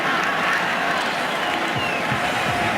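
A stadium crowd roars steadily through a late-game pass play at a Dallas Cowboys vs Chicago Bears football game, a dense, loud wash of cheering voices with no breaks.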